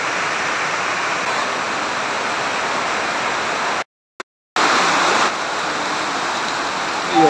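Steady, dense rain falls around a house in the Philippines, a loud continuous hiss broken briefly by a short gap, with no talk audible over it.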